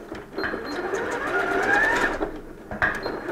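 A sewing machine straight-stitching stabiliser back and forth across swimsuit fabric, a close, steady whirring hum that shifts slightly in pitch as the stitching direction changes, with a brief clack near the end.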